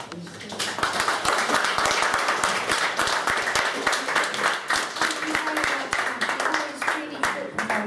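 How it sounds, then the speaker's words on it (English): Sustained audience applause after a lecture on Aristotle and philosophy, dense clapping from a sizeable crowd filling the room, steady and loud throughout with mixed voices underneath. "Another big round of applause, please."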